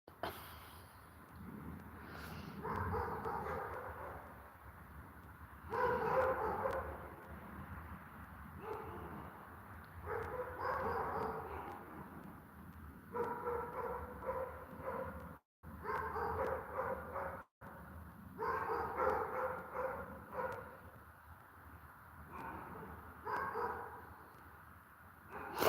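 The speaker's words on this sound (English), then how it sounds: "I wish the dogs would be quiet. Really, I could do without the yapping." Dogs bark and yap repeatedly in bursts throughout, at moderate distance, with a steady background of outdoor ambience.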